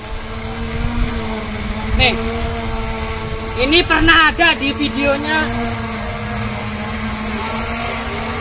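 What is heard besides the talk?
DJI Mavic Pro drone flying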